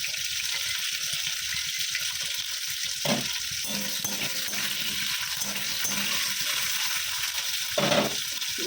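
Tomatoes and pabda fish frying in mustard oil with black cumin, a steady close sizzle with a couple of brief stirring clatters.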